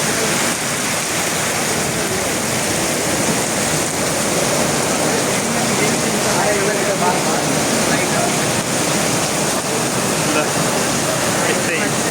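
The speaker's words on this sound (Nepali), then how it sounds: "यस्तो छ पानी" Steady, loud rushing of water from a waterfall or river at Pokhara, Nepal, with an unbroken roar through the whole stretch.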